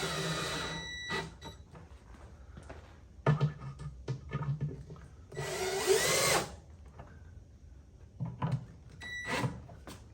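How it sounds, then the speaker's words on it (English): Short bursts of a power driver running screws into a fiberglass generator box on a boat, several separate whirring spurts with clicks and handling knocks between them, moderately close. "now I'm going to be screwing that into the box"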